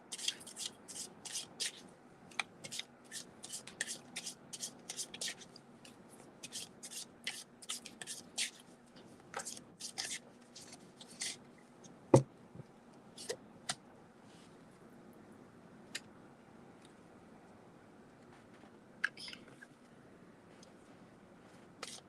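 Tarot cards are shuffled by hand close to the microphone, giving soft rustling with repeated sharp card snaps and slaps in irregular bursts that thin out in the second half.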